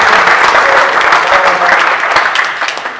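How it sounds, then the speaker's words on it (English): A room applauds TV presenter and darts fan Helen Chamberlain at a Phil Taylor press conference, loud dense clapping from a close crowd that holds steady and then tapers slightly toward the end. "Give a big round of applause, Helen"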